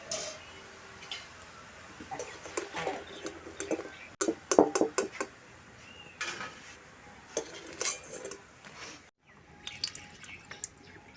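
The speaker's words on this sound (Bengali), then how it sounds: "কড়াটাকে বসিয়ে দিলাম" A metal wok is set down on a stove in a home kitchen, with a scatter of clanks, taps and clatters of cookware, one sharper knock standing out, then a brief silence and a few softer clinks.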